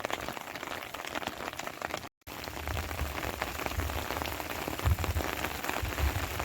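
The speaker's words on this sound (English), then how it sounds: "You can hear the rain loud and clear." Steady rain falls through a nighttime storm in metro Phoenix, a dense, continuous patter of drops striking surfaces, loud and close, with a brief dropout near the two-second mark before the downpour resumes unbroken.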